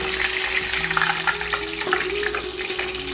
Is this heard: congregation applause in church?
no